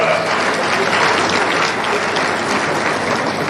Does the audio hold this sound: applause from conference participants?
yes